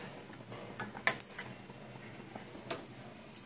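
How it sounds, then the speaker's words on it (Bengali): Sesame seeds dry-roasting in a pan, a faint scattered ticking and popping with a few sharper crackles standing out over a quiet background hiss. "দেখো তিলটাকে আমি একটু ভেজে নিচ্ছি।"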